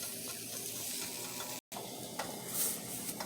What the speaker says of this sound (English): The tomatillos are boiling good.